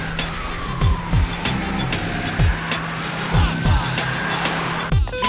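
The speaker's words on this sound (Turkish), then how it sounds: "Araç pistte sürekli turlar atıyor." A car circling a track, its engine droning steadily with repeated squeals and swishes as it turns, over a background with a siren-like tone; no talking.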